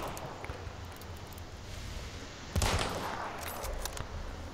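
Faint bursts of gunfire from the video game Hunt: Showdown crackle at a distance, with a louder volley midway, over a low background of rustling.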